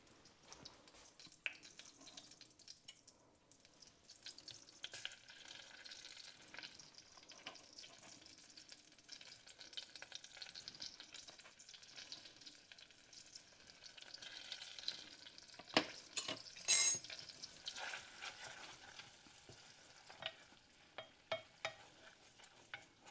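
Onion fries quietly in a saucepan while being stirred, a soft, low sizzle under scraping and the light clinks of a spoon, with a few sharper knocks against the pan near the end.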